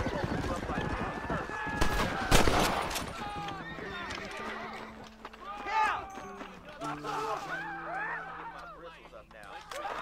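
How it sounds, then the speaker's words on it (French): Gunfire in Red Dead Redemption as a woman shoots at the player, with sharp cracks and a heavy shot landing over galloping hooves and game voices talking throughout. "Elle me tire dessus."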